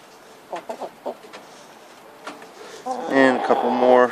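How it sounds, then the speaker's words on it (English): Backyard hens clucking close by, a few soft clucks at first, then a burst of louder, overlapping clucking and squawking near the end. "And a couple more chickens."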